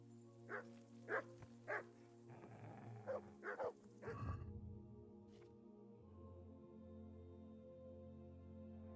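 Dog barking in the medieval video game Kingdom Come Deliverance: a series of sharp, moderate barks and growls over a steady game soundtrack hum, fading into quieter ambience.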